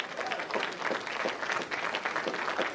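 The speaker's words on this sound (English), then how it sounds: "I don't know why you're clapping" A live audience at a magic comedy podcast claps steadily for a few seconds, a dense even patter of many hands at moderate distance with faint crowd murmur.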